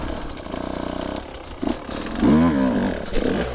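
A 2023 Husqvarna TE150 two-stroke dirt bike on a single-track trail, its engine buzzing steadily and then rising in revs in short bursts, fairly close and loud with no talk.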